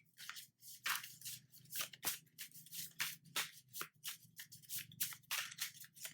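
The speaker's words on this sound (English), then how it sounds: "I'm just shuffling." A deck of cards is shuffled by hand, giving quiet, close, repeated riffling and sliding bursts in an uneven rhythm, with no talk.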